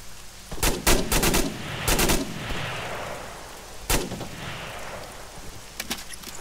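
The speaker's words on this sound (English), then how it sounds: "Oh god, they're shooting through." Gunfire in the Arma 3 military game: several sharp shots in short bursts, some loud and close and others more distant, with a rolling echo between them.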